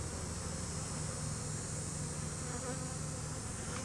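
A dense, steady drone of many honey bees buzzing close by, continuous and even throughout with no voices.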